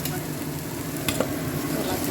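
Boiled and fried jackfruit is stirred into curry masala in a pan, a steady close sizzle broken by a couple of sharp spoon scrapes, no talking.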